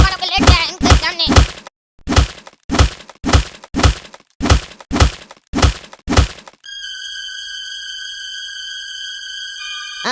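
Punches and blows landing on someone in a comedy skit: a quick series of heavy, close thuds in bursts of three to four, about ten in all, followed by a steady electronic tone.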